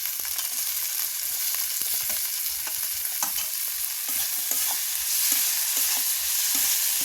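Spice paste with ginger, tomato and chopped mango fries in a pan, a continuous close sizzle with a spatula scraping and stirring in irregular strokes.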